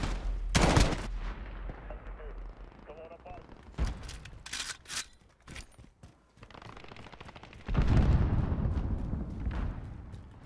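Scattered gunfire during a Call of Duty Modern Warfare beta Domination match on Grazna Raid, with sharp bursts and heavier volleys coming and going and a player talking over them.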